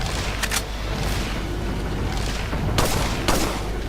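Rapid gunfire from the video game Resident Evil 4 crackles in repeated bursts over a dense, steady layer of game noise, with sharper shots standing out near the start and toward the end.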